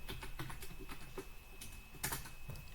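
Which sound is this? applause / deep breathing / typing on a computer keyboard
typing on a computer keyboard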